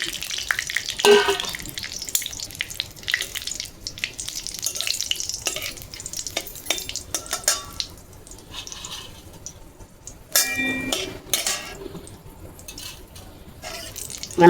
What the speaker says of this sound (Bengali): আজ যে তেল দিলুম, এলা এই যে তেজপাতা দিলুম, 3টে শুকনো লঙ্কা দিলুম